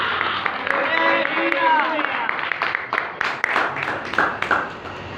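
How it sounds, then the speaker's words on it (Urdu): A church congregation applauds during a worship service. The clapping comes in a fairly dense burst mixed with raised voices and cheering at first, then thins into uneven, scattered claps. "زوردار تالیاں"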